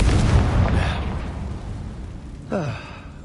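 A Confringo explosion spell goes off in a video game as a loud, close blast that rumbles down over a second or so. A second, smaller burst follows near the end.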